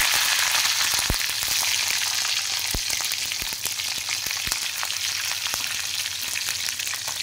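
Green chillies hit hot oil in a wok after a cumin, mustard seed and asafoetida tempering, giving a dense, continuous sizzle with scattered sharp pops and crackles throughout.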